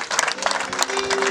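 Wedding guests at a Rwandan gusaba and gukwa ceremony break into steady clapping. The applause is continuous and fairly close, with a sustained tone running under it in the second half.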